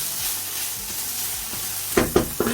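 Fried rice with vegetables sizzles steadily in a hot pan, and near the end a spatula scrapes and clacks against the pan in three sharp strokes, loud and close.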